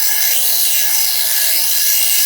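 Metal is worked back and forth to shape a lock pick, making a loud, continuous, harsh rasping grind close up with no talking.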